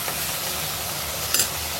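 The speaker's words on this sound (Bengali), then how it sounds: "বুটভুনার মশলা কষানো হচ্ছে।" Chickpea masala of garlic paste, coriander, red chilli, turmeric and salt being fried and stirred in a pan, a steady soft sizzle with a brief scrape of the spoon near the end, no voices.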